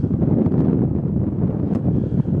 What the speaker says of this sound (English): there's still quite a lot of wind coming out, even though I'm tucked in a little bay right under some very steep cliffs